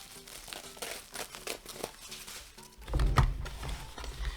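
A packing sheet is cut in half during packing for shipping, giving a run of crinkling, tearing rustles and then a louder, heavier burst of crumpling near the end, close and with no talk.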